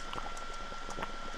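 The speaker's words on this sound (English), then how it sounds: "The pot is boiling." A pot boiling in The Witch's House game, with soft bubbling pops and faint liquid patter over a steady background hum, heard alone.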